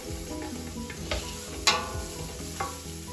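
Onions dry-sautéing in a pan over a medium-low flame, giving a steady soft sizzle with occasional scraping stirs and a couple of sharper clinks, close by and without talk.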